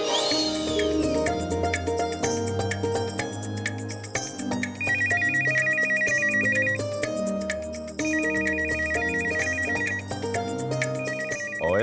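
A phone ringtone plays a repeating electronic melody over background music, loud and continuous, with a brief break midway before the tune starts again.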